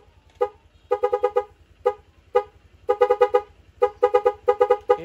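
A car horn plays a rhythmic tune through a music remote, loud tooting bursts in quick repeated groups with short pauses between, under a steady low engine hum.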